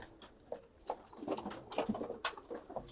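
Pigeons kept for racing and their young birds give soft, intermittent coos and rustling sounds from close range, with a few louder bursts spread across the short stretch and no talking.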